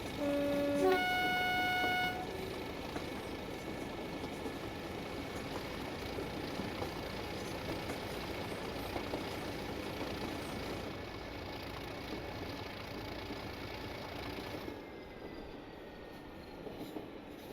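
A Class 37 diesel locomotive works under power on the Kyle of Lochalsh to Inverness line in Train Simulator Classic. A brief two-tone horn opens, then a steady engine drone and rolling wheel noise carry on throughout with no talk.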